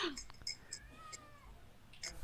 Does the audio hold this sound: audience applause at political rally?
no